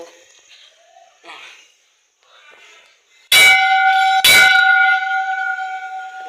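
Two loud metallic strikes of a temple bell at Shri Bhairavnath temple in Khed ring out in quick succession and hang in a long, humming decay after quiet murmuring.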